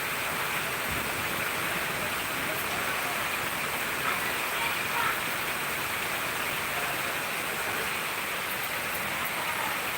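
Steady, even hiss of rain falling continuously, dense and unbroken throughout, with no voices.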